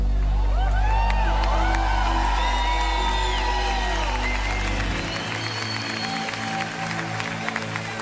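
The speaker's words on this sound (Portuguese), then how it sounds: "Uma salva de palmas e com honra, nosso primeiro pregador da noite" A church audience claps and cheers to welcome the evening's first preacher, loud applause mixed with whoops and shouts at first, then thinning to scattered clapping under continued voices.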